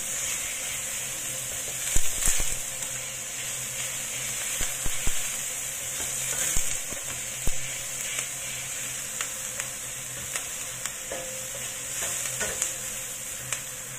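Chopped onions frying in oil in a pan for beef curry give a steady, close sizzle with occasional scraping stirs of a utensil across the pan.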